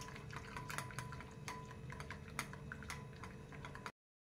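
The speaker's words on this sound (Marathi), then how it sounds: "हे बघा, अशा रीतीने आपल्याला हे दही चांगलं मिक्स करून घ्यायचं आहे।" Yogurt stirred with half a bowl of water for boondi raita, a spoon clicking and tapping against the bowl in quick irregular strokes with soft wet swishing, faint and close, ending abruptly; no talking.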